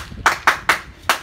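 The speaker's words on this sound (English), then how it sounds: "Good, clap for her." A classroom of students claps for a classmate who gave a correct answer: four quick, even claps with short reverberant tails, fairly close and moderately loud, with no talking over them.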